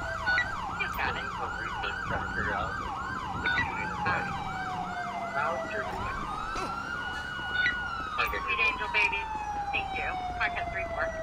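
An ambulance siren in the video game GTA 5 blares close by, quick yelping cycles giving way to a long descending wail, over a low engine rumble.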